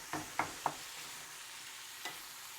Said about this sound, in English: As you can see, the beef is cooking down.